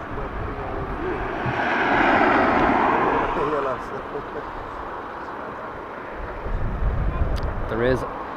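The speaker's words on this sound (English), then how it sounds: "There is another plane there on finals." An airplane on final approach at Dublin Airport swells into a broad engine roar and then fades as it passes at a distance, with faint voices and outdoor noise around it.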